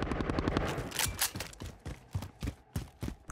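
Gunfire in a Call of Duty Modern Warfare multiplayer match: sharp, close shots crack in quick bursts, with a rapid run at first and then spaced single and double shots in an uneven rhythm.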